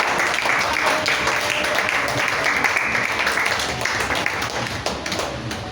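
A church congregation applauds Jesus during a service, a dense sustained wash of clapping that fills the room and tapers slightly toward the end.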